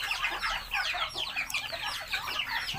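Backyard poultry flock clucking in a steady, overlapping chatter of short calls, fairly close and continuous throughout, with no talking.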